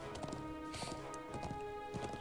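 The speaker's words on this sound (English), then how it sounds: "Let's ride our horse on in here and hop off." Horse hooves clip-clopping at a steady trot in the video game Trails of Cold Steel, quiet and rhythmic beneath sustained background music.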